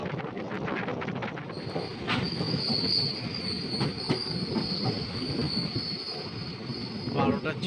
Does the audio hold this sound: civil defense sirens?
no